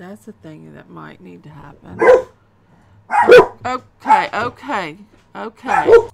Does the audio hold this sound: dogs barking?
yes